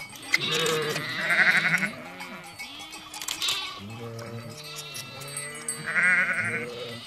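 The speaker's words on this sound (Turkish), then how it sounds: "Kuzuyu bırakıyoruz koyun içine." Lambs and sheep bleat repeatedly on a farm where orphaned lambs are hand-fed, high wavering cries overlapping with lower ewe calls, close and fairly loud throughout.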